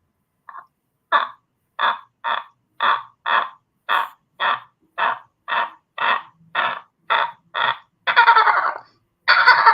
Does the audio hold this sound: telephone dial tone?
no